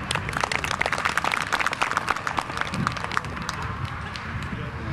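A crowd at a Mettler Toledo retirement event in Spartanburg breaks into sustained applause, many hands clapping in a thick, even patter that holds steady from start to finish.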